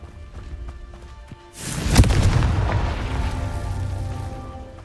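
A Confringo spell in the Hogwarts Legacy video game sets off a sudden loud boom, then a rumbling explosion that slowly fades under faint game background sounds.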